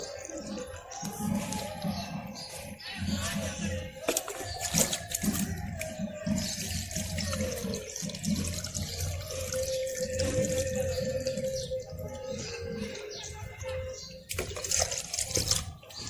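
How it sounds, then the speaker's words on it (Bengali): Water poured gently by hand while planting a lotus bulb, a soft continuous trickle and splash under intermittent talking, with occasional louder bursts. "এই আলতো করে এরকম জল দিয়ে দেবেন"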